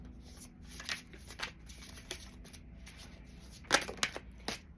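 A deck of thick tarot cards, the Witches' Wisdom Tarot, being riffled and shuffled by hand: repeated soft papery flicks and sharper snaps, close up, with a brief louder burst near the end.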